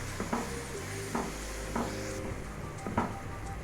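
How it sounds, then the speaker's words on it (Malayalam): Tomato paste is stirred in a pan for fish curry, with soft scraping strokes of a spoon against the pan recurring every half second or so over a low background hum. "ഒന്ന് ഇളക്കി വരണം കേട്ടോ."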